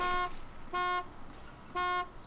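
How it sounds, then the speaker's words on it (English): Truck horn honking in the video game DayZ: three loud, sustained blasts roughly a second apart, each about a third of a second long, standing alone over a quiet background. "please don't honk the horn anymore"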